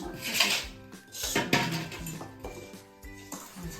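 Winter vasana sweets being mixed in a pan, with metal ladle scraping and clattering against the pan in repeated loud strokes, close up and fairly busy throughout.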